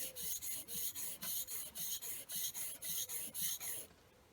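Blade edge rasped back and forth on a worn oil stone, about a dozen steady rhythmic strokes, close and clear, then stopping near the end.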